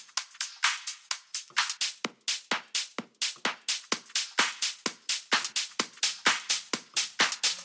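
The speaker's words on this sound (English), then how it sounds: "then I got some top loops" A busy tech house percussion top loop of crisp, bright hits repeats in a fast, steady dance rhythm, loud and close with no voices.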